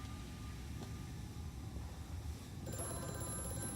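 A telephone rings faintly in the horror game Amnesia: A Machine for Pigs, its bell sounding a short way off beneath a low, steady mechanical drone.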